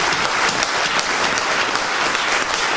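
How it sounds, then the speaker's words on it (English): A large audience claps steadily in a dense, loud wash of applause that holds at an even level throughout. "let's give another round of applause to Mr. Damon John."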